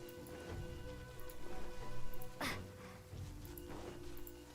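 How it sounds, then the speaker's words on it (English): Steady rain hisses in a video game, mixed with soft tonal background sounds. A brief louder splash-like burst cuts in about halfway through. "Does it ever, like, stop raining here"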